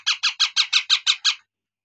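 Baby Indian ringneck parrots squawk eight times in a quick, evenly spaced burst of harsh, close calls before falling silent.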